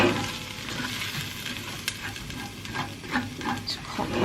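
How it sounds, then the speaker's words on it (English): Onions, garlic and spices sizzle in oil in a pan, a continuous close frying hiss with scraping stirs and light clatter toward the end. "the garlic and the onions starting to brown, so I'm going to add the spices, throw those in."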